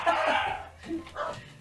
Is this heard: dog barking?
yes